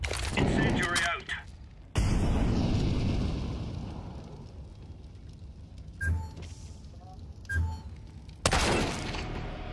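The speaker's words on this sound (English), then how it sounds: "Incendiary out" An incendiary grenade is thrown in Counter-Strike 2, bursting into a loud roaring fire-like rush with broadband crackle, amid other gameplay bangs and brief impacts, with a player talking over it.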